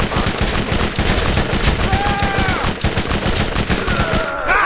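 Sustained rapid machine gun fire in Borderlands rattles loudly and continuously in dense bursts, with a brief tonal whistle partway through and a sharp burst at the end.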